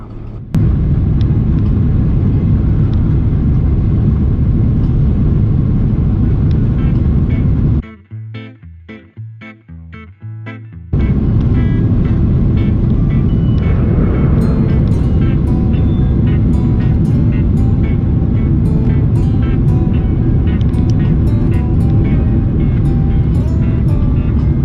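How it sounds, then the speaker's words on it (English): An Air Astana Boeing 767 cabin during departure fills with a loud, steady engine roar and rumble. The roar drops to a quieter patch partway through, then returns at full strength. "the plane was pushed back for an on-time departure"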